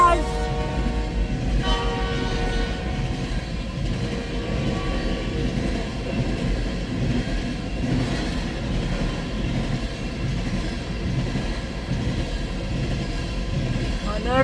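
A freight train of empty bitumen oil tank cars, hauled by a CN SD75IACC locomotive at Ladysmith, Wisconsin, rumbles past steadily and loud, with faint wheel clatter and a brief horn-like tone early on.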